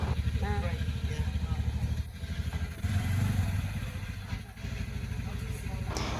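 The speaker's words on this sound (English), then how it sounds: "So this is me trying to learn how to drive a motorbike." A motorbike ridden by a learner on Lombok: a close engine putters and revs unevenly, with surges and dips, clattering and scraping noises, and brief pauses.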